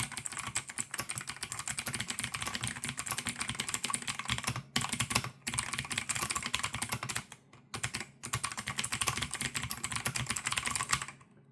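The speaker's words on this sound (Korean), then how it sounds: "저소음 적축과의 극적인 비교를 위해서 알리에서 구매한 청축 키보드랑 한번 비교를 해볼게요" A blue-switch mechanical keyboard bought from AliExpress typed on steadily, giving dense, loud clicky keystrokes with two brief pauses and no voices.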